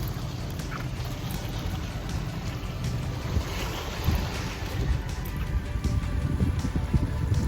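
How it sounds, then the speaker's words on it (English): Wind blowing across Charleston Harbor, a steady broadband rush buffeting the microphone with low rumbling gusts, with faint water and wave texture underneath and no talking. "I don't know if you'll be able to hear me over the wind"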